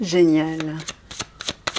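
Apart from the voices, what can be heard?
tarot cards being shuffled and drawn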